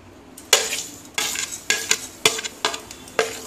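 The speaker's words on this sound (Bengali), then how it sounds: "এবারে আমি কালো জিরে ফোড়ন দিয়ে দেবো" A spoon scrapes and stirs in a pan of hot oil with black cumin seeds, giving about six sharp clinks over a faint steady sizzle, close by with no talking.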